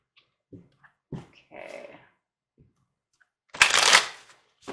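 A deck of oracle cards shuffled by hand: a few soft riffles and taps, then a loud, crisp burst of shuffling near the end, close and alone with no talking.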